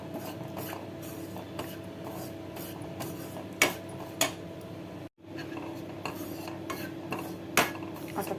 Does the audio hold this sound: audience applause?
no